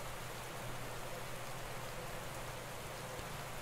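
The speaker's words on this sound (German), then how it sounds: "Ansonsten regnet es ja ohnehin" Rain falls in the cycling management game Radsport Manager 16 as a steady, even hiss of drops. It is fairly quiet and continuous, with no speech or other distinct sounds over it.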